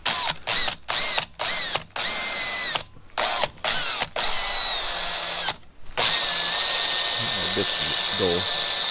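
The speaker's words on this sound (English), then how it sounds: "So I'm going to get all these drilled with a 3/16 hole, maybe even a 1/4" A power drill boring 3/16 inch holes into a homemade fishing rod truck rack, running in a string of short high-pitched bursts with brief pauses and then one long sustained run, loud and close, while someone speaks faintly.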